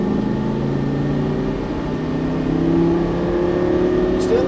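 A Lamborghini Gallardo LP550 on a racing track, its engine droning loudly and climbing steadily in pitch as the throttle is squeezed, heard from inside the car.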